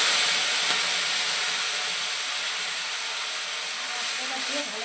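Spice paste hits a hot pan already holding cumin, bay leaf and two small cloves, giving a steady loud sizzling hiss that eases slightly as it settles.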